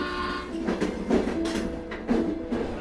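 A train runs along the tracks with a rumbling roll and rhythmic clattering bursts, steady and moderately loud, with no voices.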